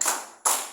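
Two crisp, close group claps of a Tepuk Spiderman cheer at a teaching session, each strike ringing out briefly with no talk over them.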